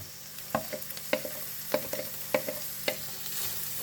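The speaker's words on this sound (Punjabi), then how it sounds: "ਹੁਣ ਆਪਾਂ ਨਾ ਇਹਦੇ ਵਿੱਚ ਹਰੀ ਮਿਰਚ ਤੇ ਅਦਰਕ ਦਾ ਪੇਸਟ ਪਾ ਦਿਆਂਗੇ" Green chili and ginger paste frying in a pan while a spoon stirs it, a soft sizzle under regular sharp scraping strokes about every half second, close but fairly quiet, no voices.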